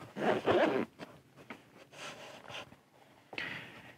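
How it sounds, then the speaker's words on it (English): Zipper on a GoPro Hero 11 Black kit case pulled open in several close, scratchy bursts with short pauses between, the longest at the start and another near the end. "We're gonna unzip this."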